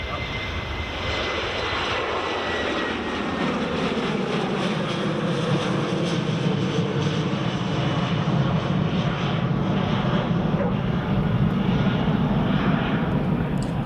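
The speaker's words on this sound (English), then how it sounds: "Here goes the Jet 2. Jet 2 off to Bergen, Ken." A Jet2 airliner bound for Bergen takes off at Edinburgh Airport in the early morning, its jet engines a loud, continuous, broadband roar whose pitch sweeps slowly as it passes.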